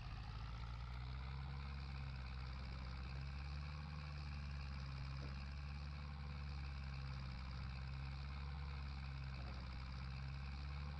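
A Zetor 7745 tractor engine idles steadily with a deep, constant low rumble and humming tones, unchanging throughout and fairly quiet.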